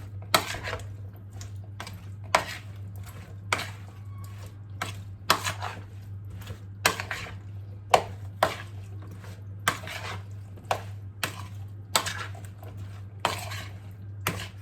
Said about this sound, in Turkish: Tekrar karıştırıyorum.